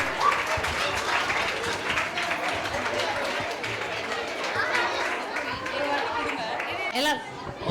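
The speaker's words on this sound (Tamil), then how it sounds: "எல்லாரும் ஒரு பலத்த கரகோஷம் கொடுங்க குட்டீஸ்க்கு." A crowd at a children's quiz event gives the kids a round of applause, a soft steady patter of clapping mixed with chatter and murmuring voices, fairly distant and low in level throughout.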